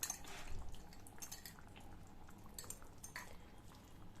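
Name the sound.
beaten curd being added and mixed into mutton kadai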